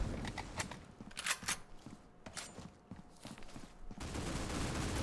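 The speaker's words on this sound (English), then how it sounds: "Gene's getting the headshot on Crawl" Gunfire in Critical Ops during a competitive tournament grand final round, heard as a series of sharp, fast shots in quick bursts, fairly close, with brief gaps and footstep-like taps between.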